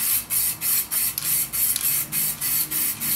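Silver metalizer Plasti Dip sprayed from an aerosol can onto a car wheel, a close hissing spray in short bursts with brief pauses, about nine bursts, no talk.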